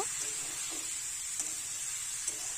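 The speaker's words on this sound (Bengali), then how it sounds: "ভেজে রাখা ঝিঙে আলু দিয়ে দেব" Fried ridge gourd and potato go into a spice paste that has cooked down until the oil separates, giving a steady bright sizzle with faint soft stirring scrapes and no talk.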